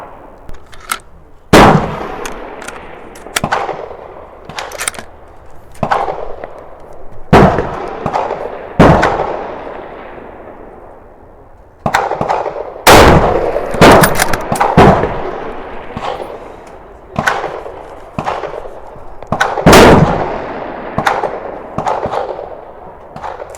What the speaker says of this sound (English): Break the shot cleanly, it doesn't have to go.